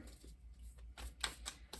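A tarot card deck is shuffled up close, producing quick bursts of riffling and flicking card noise in an uneven rhythm against a quiet indoor background.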